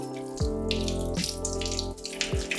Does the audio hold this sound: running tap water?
yes